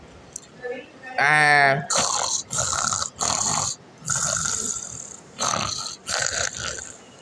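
A voice imitates snoring in about seven loud, rasping bursts separated by short pauses, the first with a rattling, fluttering texture.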